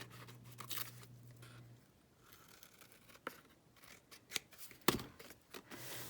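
Scissors trim shibori tie-dyed fabric in a rough cut, with scattered sharp snips and rustling cloth, some crisp and close, among quiet handling noise.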